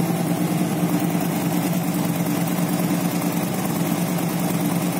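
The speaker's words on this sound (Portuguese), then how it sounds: "essa moto aqui ela vibra tanto que até o pezinho dela mexe" A Royal Enfield motorcycle engine idles steadily, a continuous low rumble with a faint vibrating rattle, vibrating hard enough to shake the kickstand, close by and unchanging throughout.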